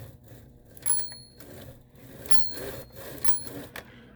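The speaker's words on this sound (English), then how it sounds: "We have a nice bell." A Smith Corona Silent typewriter's carriage bell rings three times, each a clear, bright ding over quiet mechanical clicks and handling noise.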